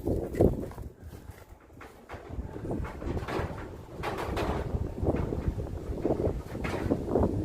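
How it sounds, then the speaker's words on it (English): Gusty outdoor wind buffets the microphone as a low, continuous rumble with shifting swells, with a few faint bird calls and light scuffing in the background around old stone shearing quarters. "Oh, wind."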